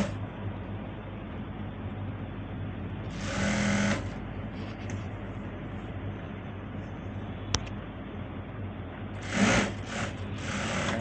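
A sewing machine stitches elastic into a trouser waistband with a continuous close whir throughout, swelling briefly louder twice.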